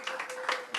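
Audience applause breaks out at a regular council meeting, a brief burst of many hands clapping with uneven peaks, fairly close and filling the room.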